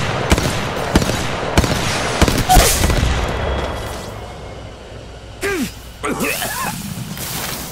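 Gunfire in the mobile battle-royale game Apex Legends Mobile, with sharp shots crackling in quick bursts and rapid volleys, loud and near, followed by softer game effects and swooshes.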